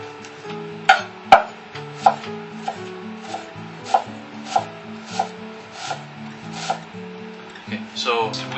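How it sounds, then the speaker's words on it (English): A knife chops an onion into small pieces on a board in a run of about a dozen crisp, evenly spaced taps, with a few faint spoken words. "So onion, I'm going to cut it small."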